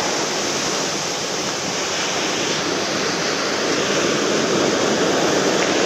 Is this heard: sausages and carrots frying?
no